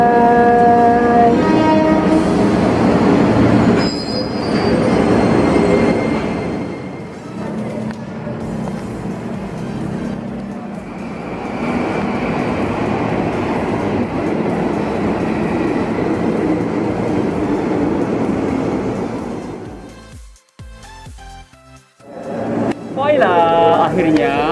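A Jakarta commuter train runs from Juanda to Manggarai station with a loud, continuous rumble of wheels and car noise, shifting tones as it moves, and a voice talks in the carriage at times.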